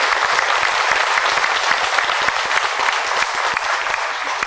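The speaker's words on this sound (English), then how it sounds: "give them a big round of applause" A festival crowd at the 1998 Gardenton Ukrainian Festival applauds a dance school, with loud, continuous, dense clapping from many hands throughout.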